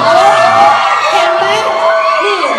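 Fans at a meet-and-greet event at Central Chonburi shriek and cheer in a loud, sustained, high-pitched crowd roar that continues without a break.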